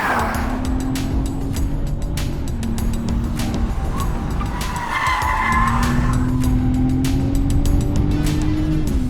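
BMW M340i sedan with its 3-litre turbocharged straight-six petrol engine, heard from a drive: a steady, loud engine drone that dips briefly midway, then climbs again, with tyre and road noise throughout.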